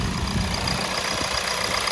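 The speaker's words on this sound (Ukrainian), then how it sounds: "Ось і сам двигун, працює чудово, рівно, ніяких посторонніх шумів." A 2017 Kia Ceed's 1.6 diesel engine idles with the hood open, a steady, even rumble with a faint clattering texture heard up close, running alone without voices.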